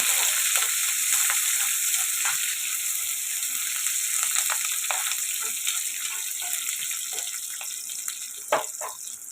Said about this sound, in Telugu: అలాగే కొద్దిగా కరివేపాకు ఇవన్నీ ఫ్రై చేసుకోవాలండి